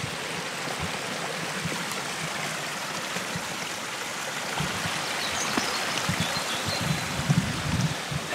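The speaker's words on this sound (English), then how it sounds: "Oh, there's a lovely little waterfall there, isn't there? Some little tumbling falls I can hear." Small tumbling waterfall on Exmoor, a steady broadband rush of water falling over rocks, moderately near and continuous, with no voices.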